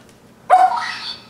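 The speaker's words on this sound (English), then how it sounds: "There she barks" A dog gives one sharp, close bark after a silent pause, the sound trailing off briefly, while a Lego Mindstorms EV3 treat-dispensing plow robot waits nearby.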